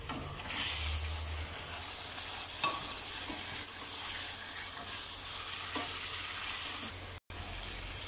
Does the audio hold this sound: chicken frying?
yes